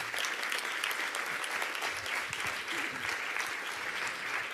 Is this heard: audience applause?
yes